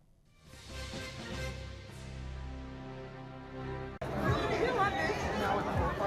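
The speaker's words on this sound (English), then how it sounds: "I'll leave you with the sights and sound of the NSAS protesters" A crowd of #EndSARS protesters in Lagos, Nigeria, a steady wash of chatter and babble that swells into a louder, denser roar of voices partway through.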